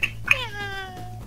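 A cat meows once in the Minecraft video game, a clear, drawn-out call that falls in pitch and stands alone over a low steady background.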